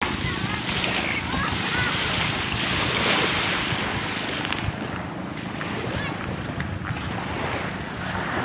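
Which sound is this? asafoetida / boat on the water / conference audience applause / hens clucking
boat on the water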